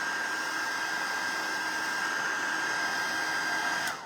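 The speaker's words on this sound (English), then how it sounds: "I hate using the heat gun on camera" Steady, loud electric blower whooshing with a constant tonal whine, running continuously before cutting off abruptly near the end.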